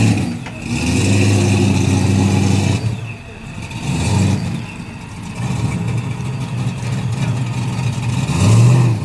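A race car powered by a Nelson Racing engine at a drag racing shootout, its deep engine droning and revving loud and near in long sustained pulls with brief dips between, while people talk over it.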